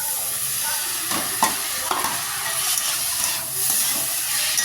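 Prawns fry in a pan as soaked sago is added, producing a steady hissing sizzle with scraping stirs and soft clatters, close and moderately loud, with no one speaking.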